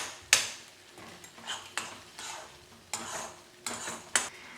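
A spicy stuffing for wheat parcels gets mixed in a bowl, producing a series of sharp clinks and scraping strokes roughly every half second to second, close and clear with quiet gaps and no speech.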